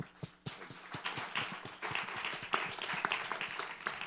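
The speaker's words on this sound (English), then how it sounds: "Applause." Scattered audience clapping after a pitch at a meetup, starting sparse with distinct individual claps and thickening into moderate applause heard somewhat at a distance.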